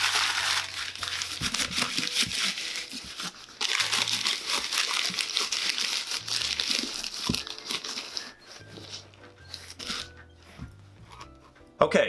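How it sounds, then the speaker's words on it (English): Paper stuffing is crumpled and pulled from the insides of dried suede shoes, loud close crinkling and crushing that runs almost throughout with brief pauses. "take out all of the paper from the shoes"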